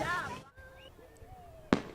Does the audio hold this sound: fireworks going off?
yes